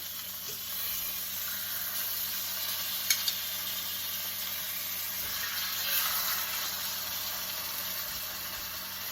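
Pork chops seasoned with salt and black pepper sizzle steadily in a pan, a continuous hissing fry that stays even throughout with a couple of faint clicks.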